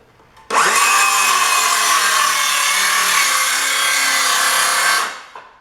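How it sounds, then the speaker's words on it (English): A circular saw cuts notches into wood for a garden bench: a loud, close, continuous high-pitched saw whine under load for about four and a half seconds, then spinning down, with nothing else heard. "Use my circular saw to cut these notches."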